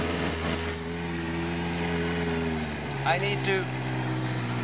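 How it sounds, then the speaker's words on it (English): A cold engine idles with the choke set, giving a steady, even low hum that holds constant throughout while someone talks over it. "I don't want to keep the engine revving into 3, 4, 5 thousand RPM when it's just when it's really cold"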